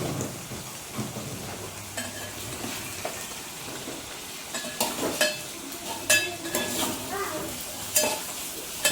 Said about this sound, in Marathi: अशा प्रकारे फ्राय करून घ्यायचं आहे. आणि याला थोडंसं आता हलवायचं वरच्यावर.